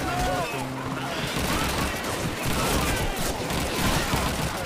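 Scattered rifle and machine-gun fire from Call of Duty 2, a dense wash of distant and mid-range shots over constant battle noise, with faint talk underneath.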